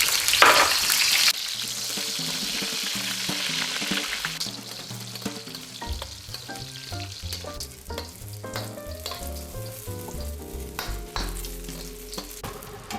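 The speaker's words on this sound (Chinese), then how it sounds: "热锅放入葱油，保持中小火，再加入一些红葱头" Shallots and scallions dropping into scallion oil in a hot wok over medium-low heat, with a loud hiss at the start settling into a steady bubbling fry under background music, no talking.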